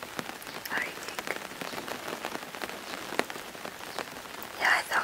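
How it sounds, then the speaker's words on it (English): Steady rain pattering on a surface, a dense continuous hiss of drops with occasional louder splashes, close and even throughout with no voices. "It's still raining."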